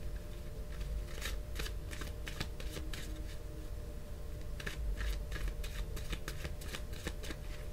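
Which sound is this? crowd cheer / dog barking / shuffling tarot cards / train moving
shuffling tarot cards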